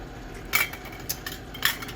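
A spatula mixing mashed potatoes in a pot, with a few sharp metallic clinks and scrapes against the cookware over a low kitchen background, no talking.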